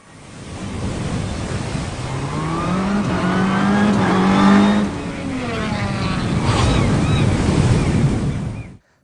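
A small toy car speeds along a track and launches off the end, its whirring pitch rising and then falling over a steady rushing noise that lasts most of the nine seconds, close and fairly loud, with no talk.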